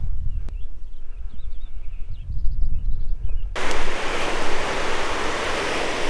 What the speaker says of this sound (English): This would be Aurora Creek